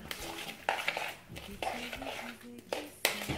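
A spoon clinking and scraping against a bowl while urchin ceviche is mixed, several distinct knocks spaced irregularly over soft stirring, close and fairly quiet.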